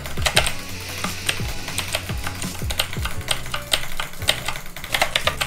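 Rapid clicky keystrokes on a small RGB computer keyboard rattle along steadily and close up, a dense run of sharp taps with no voice over them.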